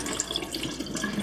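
Tap water runs into a kitchen sink while meat is rinsed with water and vinegar for burritos, a close, steady splashing flow with small irregular gurgles and no talking.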